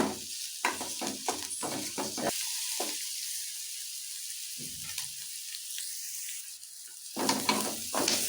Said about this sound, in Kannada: ಕರಿಬೇವು, ಈರುಳ್ಳಿ, ಒಣಮೆಣಸಿನ್ಕಾಯಿ ಎಲ್ಲ ಹಾಕಿ ಫ್ರೈ ಮಾಡ್ತೀನಿ.